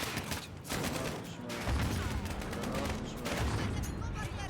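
Dense, continuous gunfire from a first-person shooter game, with rapid overlapping bursts and heavy low rumbles throughout, while someone talks over the shooting.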